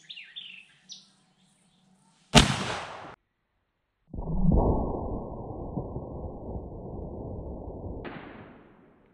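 Outdoor shots from a 38-55 rifle firing 255 grain bullets at 1600 fps through brush: two loud, sharp reports a couple of seconds apart, the second trailing a long rumbling echo, after faint bird chirps.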